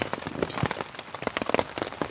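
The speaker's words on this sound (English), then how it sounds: "try to show you the torrential rain" Heavy rain pattering on a surface at a wilderness campsite at night, a dense close patter of drops with irregular louder hits and no talk.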